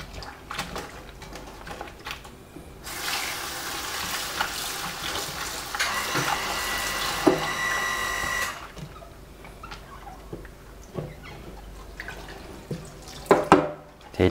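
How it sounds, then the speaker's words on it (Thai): Water splashes and streams out in a steady pour for several seconds while draining bitter melon, with light drips and clinks of a container before and after. "เทน้ำออกให้หมดนะครับ"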